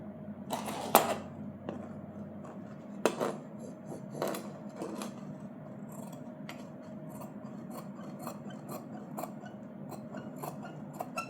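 Scissors snip through blouse fabric on a tabletop, with a few sharp isolated cuts early and then softer, steady rasping and rubbing of cloth and blades under a low room hum.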